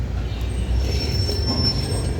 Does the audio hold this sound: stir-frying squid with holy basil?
no